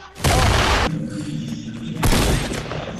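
Gunfire in Fortnite: two loud, close blasts, each trailing a short noisy decay, with a quieter stretch of game noise between them and no speech.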